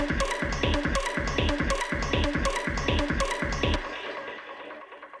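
A one-shot techno synth stab driven by an ML185 step sequencer repeats in a fast, even pulse of bright, dense hits for about four seconds, then trails off into a fading tail. There is no talk.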